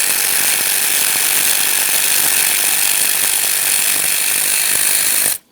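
A power tool backs out a 10mm AC line bracket bolt on a 2013-2020 Ford Fusion 2.0L, producing a loud, continuous rattling buzz that runs for about five seconds and then stops abruptly.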